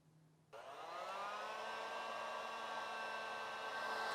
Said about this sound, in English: I just use a heat gun